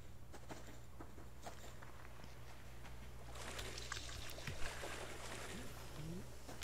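Water sloshing and trickling in the survival game Subsistence as blood is washed off a character, a steady watery patter with a low hum underneath and a few brief splashy accents.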